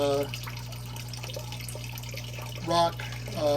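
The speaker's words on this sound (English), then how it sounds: "I added that branch back to increase to put a little flow and splash in there to break up that stagnation" Water trickles and splashes from a branch into an oyster reef aquarium, a steady, moderate flow over a constant low hum, with a couple of brief louder splashes near the end.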